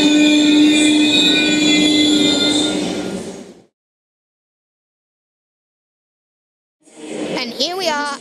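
A Sydney Trains H set rumbles and hums loudly at Bondi Junction station, then cuts to silence before a voice speaks over faint background.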